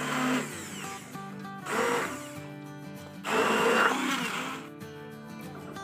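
A blender grinds mustard greens for sarson ka saag in three loud motor bursts separated by short dips, the whirring pitch shifting as the greens churn, with no speech.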